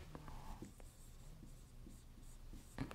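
A pen writes out a math solution for a high school polynomial problem by hand, with faint, close scratching strokes and small taps in short bursts, and a slightly louder tap near the end.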